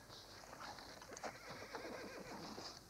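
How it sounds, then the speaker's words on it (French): A horse neighs repeatedly in a 1970 film scene set around a wagon full of horses, with a shrill, wavering whinny sounding moderately close and the faint clop of hooves beneath it. "Il y a des chevaux dans ce wagon."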